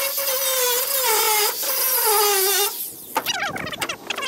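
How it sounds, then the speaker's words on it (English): An angle grinder grinds off metal studs, a loud continuous high-pitched whine with a steady pitch that cuts out abruptly, followed by a few irregular scraping and clanking knocks. "But I do have two of these I can probably grind off the angle grinder"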